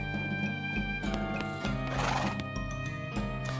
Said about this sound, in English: You see the dark horse, barely.